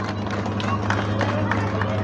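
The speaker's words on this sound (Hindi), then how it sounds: "अरे साहब, तालियां इनके लिए जोरदार" A large crowd at a public address in Mathura breaks into loud, dense applause that stays steady and continuous throughout, with no speech over it.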